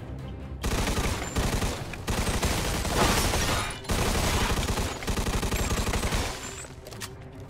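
Sustained machine gun fire in the Mafia II video game, loud and continuous bursts of automatic shots with brief gaps, dense and close throughout.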